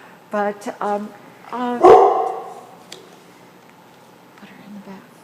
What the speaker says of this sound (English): we apologize for the barking dog,